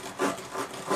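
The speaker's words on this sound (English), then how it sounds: "this knife's just gliding right through it though." A Cold Steel American Lawman knife slices through thick rubber tire with nylon mesh inside, producing two close, raspy rubbing strokes in quick succession, quiet and dry, without any talking.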